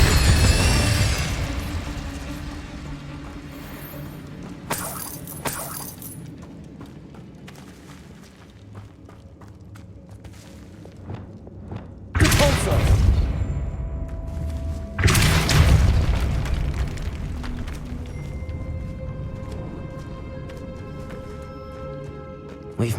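Incendio fire spell blasts in Hogwarts Legacy, with several loud bursting whooshes separated by quieter stretches of game ambience and effects.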